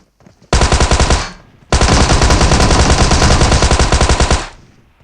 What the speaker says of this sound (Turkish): Atlarken beni vurması çok normaldi